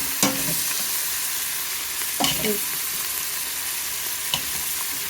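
Hamburger meat browns in a pan, giving a continuous sizzle broken by a few sharp scraping stirs of a utensil, close and clear with no talking.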